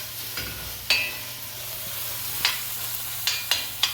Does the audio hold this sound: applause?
no